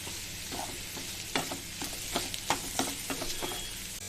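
Potato fry being stirred with chili powder in a hot pan: steady close sizzling with a series of sharp spatula scrapes and knocks against the pan, no voices.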